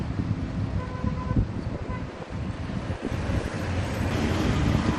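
Strong wind gusting over stormy sea and surf at Merak ferry port in bad weather, a steady loud roar of wind buffeting the microphone with waves washing below, building slightly toward the end.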